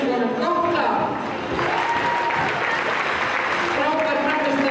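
Sustained applause from a crowd at a girls' under-16 basketball cup game between Keflavík and Njarðvík, saluting the Keflavík team, with a voice talking over the clapping.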